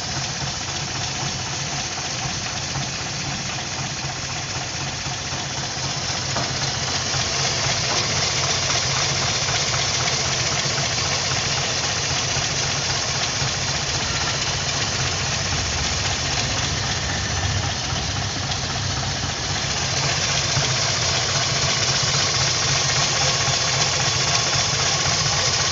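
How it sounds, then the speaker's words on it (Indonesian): A classic car's engine idles steadily for the whole stretch, a continuous close mechanical rumble with faint knocking texture and no talk over it. "Gimana guys, untuk kondisi suara mobilnya juga, mesinnya juga masih bagus ini guys."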